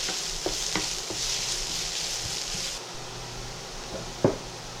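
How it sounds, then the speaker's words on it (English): Chopped ginger sizzles in a hot pan, a steady frying hiss broken by a few stirring scrapes and a sharper knock near the end. "chopped ginger, and give a quick saute of 1 to 2 minutes."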